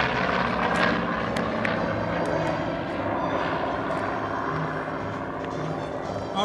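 A Chance Vought F4U-5 Corsair propeller fighter flying a pass at an air show, its engine a loud, steady broadband roar that holds throughout without pause.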